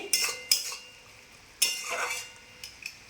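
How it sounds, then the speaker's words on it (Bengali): A metal spoon scrapes and clatters in a pan while okra and shrimp are stirred after mustard oil is added, a few sharp clinks and scrapes separated by pauses, with faint sizzling. "একটু সর্ষের তেল দিয়ে নেড়ে"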